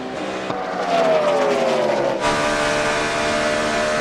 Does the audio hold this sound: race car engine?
yes